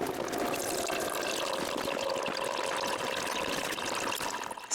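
Water drains in a steady hiss and trickle from the opened valve of an air compressor tank, continuous and fairly close for several seconds, with no voices.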